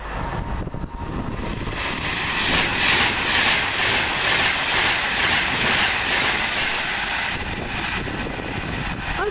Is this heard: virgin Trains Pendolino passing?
yes